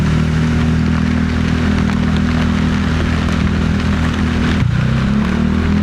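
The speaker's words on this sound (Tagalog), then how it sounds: "Sobrang lakas ng ulan, no?" Heavy tropical rain pours onto a flooded road, a dense steady roar with a low motorcycle engine hum running beneath it throughout, close and loud with no letup.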